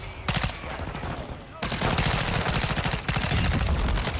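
The Chimera SMG-style assault rifle in Call of Duty: Modern Warfare fires rapid full-auto bursts, loud and close, with a tight fast rhythm, a brief pause, then a longer sustained burst.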